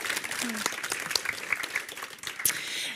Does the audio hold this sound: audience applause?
yes